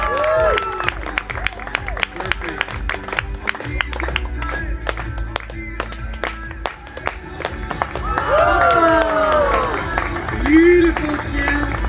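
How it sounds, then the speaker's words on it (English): Scattered audience clapping and some cheering at an outdoor soccer trick show at EPCOT, sharp individual claps over crowd murmur, with someone talking and brief whoops near the end. "Do we get some applause for it?"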